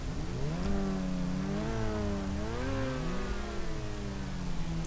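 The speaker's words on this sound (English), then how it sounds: "you'll hear it again here in just a second when I start the car" A car in GTA V starts up and revs, its engine tone rising and falling in several smooth sweeps, steady and fairly close, with no voices.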